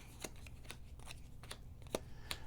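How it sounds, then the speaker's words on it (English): Playing cards for the board game Mezen are set down one at a time on a table, making a series of soft, close slaps and flicks with a few quiet rustles between them. "We'll place out 5 cards here."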